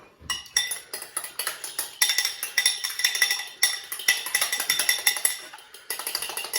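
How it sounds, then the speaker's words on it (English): An egg is whisked in a bowl for a chicken schnitzel coating, a steady run of fast, bright clinking strokes of utensil against the bowl's side, continuous and close for several seconds with only brief pauses. "What I also need to do is whisk this egg up."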